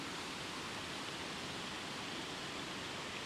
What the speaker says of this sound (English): we follow another stream with a series of cascading waterfalls heading in the opposite direction to me